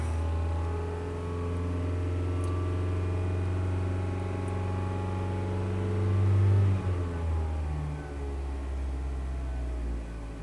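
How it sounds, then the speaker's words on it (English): A Mazda engine with a rich-running poor idle rises steadily from idle into a moderate rev, holds the higher pitch briefly, then drops back, heard close and continuous without talk. "Rev it up a little bit."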